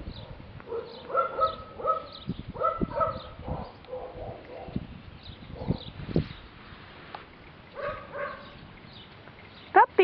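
A puppy's short barks and yips come in scattered bursts, fairly close, mixed with a few whimpers and light background noise.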